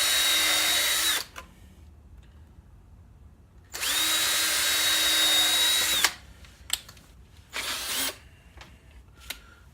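A power drill bores pilot holes in a wooden birdhouse in three bursts, two long steady whines and a shorter third, separated by quiet gaps with small handling clicks and knocks.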